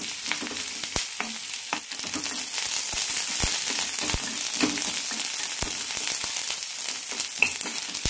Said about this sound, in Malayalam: പിന്നെ വഴറ്റാം.